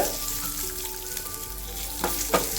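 Ginger pieces and garlic cloves roasting in a pan for crab masala, a dense steady sizzle up close with a couple of spatula scrapes near the end, no voices.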